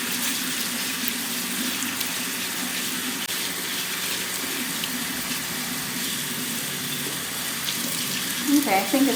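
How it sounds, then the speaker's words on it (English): Buckwheat grains being washed in a tub of water, a continuous watery rush and swish with a few sharper splashes and stirring sounds toward the end. "we will wash the grains in a tub of water"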